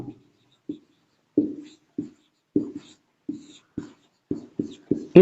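Chalk or marker writing on a board in a classroom lesson, a series of separate short scratchy strokes spaced irregularly, fairly close with quiet gaps between.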